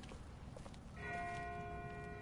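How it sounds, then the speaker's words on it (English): A distant bell rings in The Walking Dead video game, one sustained metallic tone entering after a second of quiet ambience and humming on until the end. "That's not the same bell as before. This one's further off."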